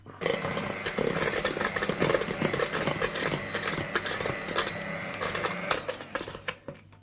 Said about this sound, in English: you're not going to get a light cake unless you use an electric mixer